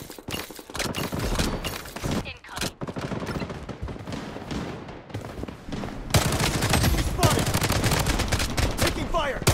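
Video game gunfire in a shooter match, rapid bursts and volleys of automatic shots cracking in clusters, growing denser and more sustained in the second half, with brief voice chatter mixed in.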